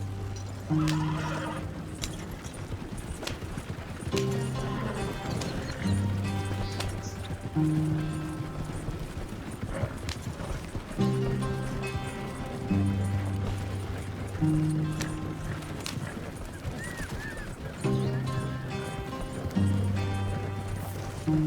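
Horse hooves clip-clopping at a gallop in Red Dead Redemption 2, with an occasional whinny, all under steady in-game music.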